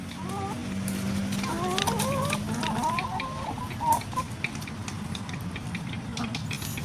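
Chickens on a chicken farm cluck steadily through the whole stretch, several birds close by calling in overlapping bursts over a constant low farmyard hum.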